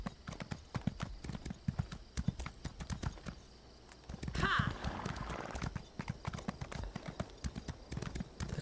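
Horse hooves clip-clopping at a quick pace in the game Elder Scrolls Online, a steady rhythmic beat under intermittent speech, with a brief whinny near the middle.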